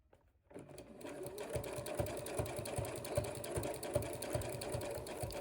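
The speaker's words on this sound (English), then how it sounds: "And then I'm going to start again and I'm going to sew down." Sewing machine stitching fabric for a rug, running steadily after a short quiet start, with a fast regular needle rhythm up close and no talk.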